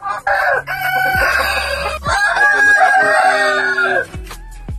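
Chickens and a rooster at a free range chicken farm in the Philippines, with loud, close crowing and overlapping clucks filling most of the clip before tapering off.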